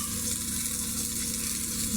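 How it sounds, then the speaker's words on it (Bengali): Onions frying in a pan with bay leaf, cloves and cardamom for a chicken and potato curry give a steady, close, continuous sizzle with a soft crackle, heard alone without any voices. "দেখতে পাচ্ছেন পেঁয়াজ ভাজা হয়ে গেছে।"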